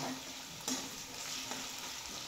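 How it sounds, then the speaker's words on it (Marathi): Green chilies and potato pieces sizzle steadily in hot oil in a pan for sabudana khichdi, a soft constant frying hiss with a couple of light spatula scrapes and no talk. "आता मिरची आणि बटाटा चांगलं परतवून घ्यायचं।"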